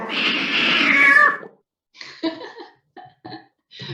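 A cat gives one long, loud drawn-out meow up close, followed by a few shorter chirps and sounds after a brief pause.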